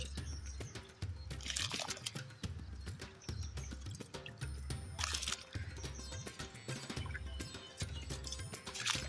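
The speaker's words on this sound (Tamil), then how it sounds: "அரிசி போட்டாச்சுங்க." Rice is poured into a pot of water while making curry leaf rice, giving repeated wet splashing and rattling pours in short bursts at close range.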